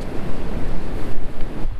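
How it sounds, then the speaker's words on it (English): Pacific coast ocean surf rolling and washing in a steady broadband roar, fairly loud and close, with wind buffeting the microphone and no talking. "And of course, on the other side is the ocean."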